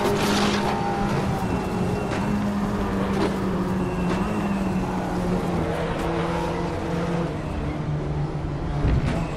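An Audi race car in the RaceRoom Racing video game gives a continuous loud engine whine that rises and falls with gear changes, mixed with faint tire noise.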